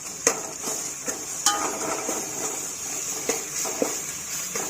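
Ingredients for paneer korma sizzle in a pan with kasuri methi as a spoon stirs them, giving a continuous frying hiss broken by scraping and clinking strokes at irregular intervals, close and fairly loud.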